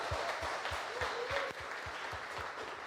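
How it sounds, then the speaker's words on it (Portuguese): A church congregation applauds at a celebration service, steady dense clapping filling the room for the whole stretch, with a regular low thump, likely a beat, pulsing underneath. "Vamos aplaudir a vida do Caleb?"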